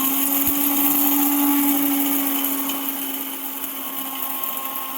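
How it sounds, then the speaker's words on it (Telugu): Mixer grinder grinding coriander seeds into a coarse curry powder, a loud, steady high-pitched whir running on its own, easing slightly toward the end. "మూత పెట్టేసి దీన్ని మిక్సీకి పెట్టేసి బర్రమని ఒక తిప్పేసామే అనుకోండి"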